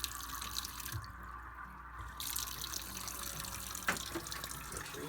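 Water rushing in to fill a 5-gallon plumbing storage tank, a steady close hiss of flow with a brief dip and one small knock partway through.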